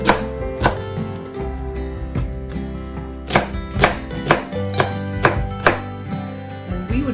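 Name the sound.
knife slicing cabbage into strips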